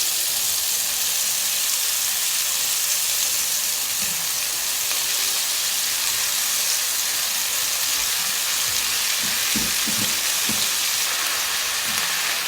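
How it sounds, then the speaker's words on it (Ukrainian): Pork liver and onion sizzle in a pan, a continuous crackling hiss broken by a few soft scraping stirs toward the end. "І час від часу помішуючи, смажу."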